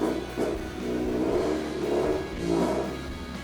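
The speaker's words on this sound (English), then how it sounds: "Oh, doing a burnout." A car engine revs during a burnout, with a mid-pitched roar surging up and down in several swells, close and steady throughout.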